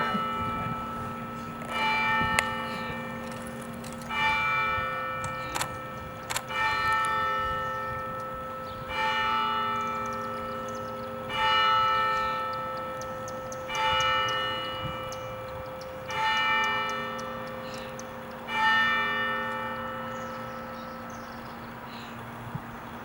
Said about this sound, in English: Just wait till the clock gets through chiming.